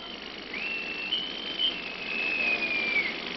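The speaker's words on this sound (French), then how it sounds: "Honneur rendu au sifflet." A naval boatswain's whistle pipes honours aboard a ship as a general steps onto the deck: a single shrill, sustained high note held for about three seconds with slight warbles, heard over a steady background hum.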